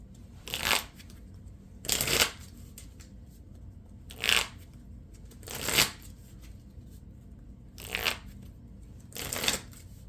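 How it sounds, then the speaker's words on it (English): A deck of cards is shuffled repeatedly during a Marvel Champions card game, six crisp riffling bursts spaced about every one to two seconds, close and clear against quiet background. "and I'll shuffle my deck."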